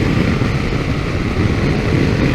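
A Harley-Davidson Pan America motorcycle ridden on a greasy winter road produces a loud, steady roar of engine and wind rumble that stays constant throughout, heard close up.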